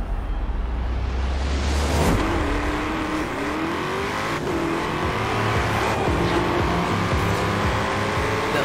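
A Ford Mustang RTR Spec 5 racing in Forza Horizon 4: loud continuous engine roar climbing through rising revs, with shift breaks, sustained acceleration and tire noise, no talk.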